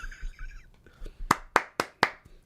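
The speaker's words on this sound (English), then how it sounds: "Soft clapping his hands" Four sharp hand claps in a steady rhythm, close by, after a stretch of quiet talking; the claps are light rather than forceful.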